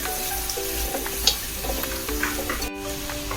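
Korean fried chicken tossed with white sesame seeds and stirred in a pan, giving a continuous soft sizzle with light scraping strokes at steady loudness.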